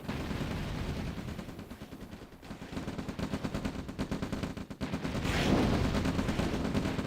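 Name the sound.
rockets firing in OpenRA Red Alert video game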